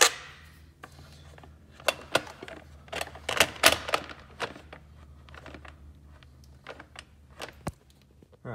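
Hand tools working 10 mm bolts and studs on a Honda ECU bracket, with scattered metallic clicks, ratcheting ticks and clanks at irregular intervals, close and fairly crisp over quiet background.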